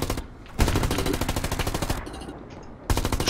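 Rapid automatic gunfire bursts in the Hell Let Loose WW2 video game, loud and close, with two sustained volleys separated by a brief quieter gap.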